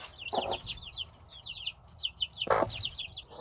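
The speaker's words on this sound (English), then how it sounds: "we'll check on the baby chickens." Rapid high-pitched peeping and chirping from several chicks, fairly close, with two brief low thumps or rustles in between.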